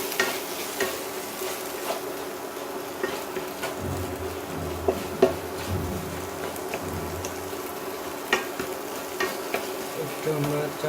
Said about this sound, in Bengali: আমরা হাতা দিয়ে চাপ দিয়ে করে দিচ্ছি